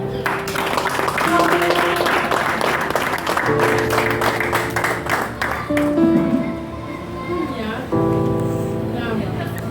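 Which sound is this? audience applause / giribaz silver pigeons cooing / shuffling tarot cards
audience applause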